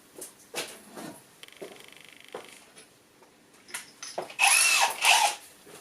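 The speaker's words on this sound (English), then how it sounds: "Right, well, I'll drill one hole then." A power drill whirs in short bursts, first a steady buzzing run, then louder high-pitched spins as it bites into material, close by.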